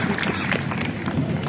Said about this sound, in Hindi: जोरदार तालियों से आमंत्रित करें